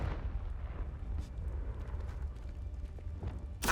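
Confringo blasting spell going off in the Hogwarts Legacy game: a low, rumbling explosive burst with heavy bass and rolling debris, then a sharp bright crack at the end.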